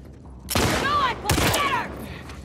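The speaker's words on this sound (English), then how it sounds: "You bitch, you're getting shotgun for this." Shotgun blasts in The Last of Us Part II, two loud, close booming shots about a second apart, each trailing off with a short echo.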